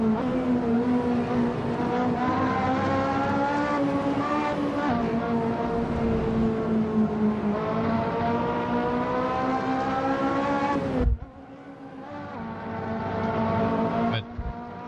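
A race car engine in the Assetto Corsa racing game drones steadily at high revs with layered harmonic whine, then cuts abruptly near the end before picking back up with a lower, rougher tone.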